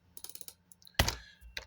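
Quiet typing on a computer keyboard: a short flurry of light key clicks, then a louder single clack and a few scattered taps, close and faint.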